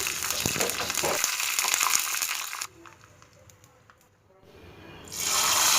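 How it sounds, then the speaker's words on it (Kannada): Loud, steady crackling sizzle of garlic frying in hot oil for a brinjal curry tempering, dropping away briefly to quiet before the sizzle surges back. "ಬೆಳ್ಳುಳ್ಳಿ ಲಾಯ್ಕಡೆ ಕೆಂಪಾದ ಫ್ರೈ ಆವಡು"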